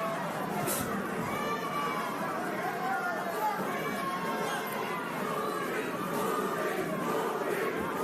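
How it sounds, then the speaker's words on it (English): A boxing arena crowd chants rhythmically for the fighter Caraballo during a bantamweight bout, a sustained roar of many voices at a distance, mixed with general crowd noise and murmuring. "The crowd getting a chant of Purin going for Caraballo"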